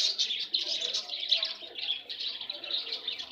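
Domestic pigeons in a lit coop with laid eggs make a steady chorus of close, fairly soft chirps and calls for a few seconds. There is no speech.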